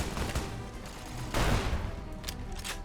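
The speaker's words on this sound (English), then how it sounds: "What are you firing at?" Gunfire in the game Fallout: New Vegas, a dense, steady clatter of rapid shots through the whole stretch, with a louder burst near the middle and no voices.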